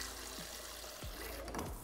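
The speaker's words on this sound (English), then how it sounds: "Water goes in, and I do one knuckle" Water pours and splashes into a rice cooker pot holding rice, a soft, steady trickle with small gurgles, faint and close with no talk.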